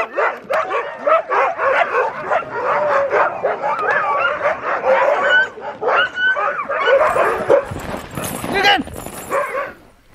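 Sled huskies bark, yip and whimper in an excited, overlapping chorus at close range under a full-moon sky in Svalbard, Norway, while a person talks over the noise.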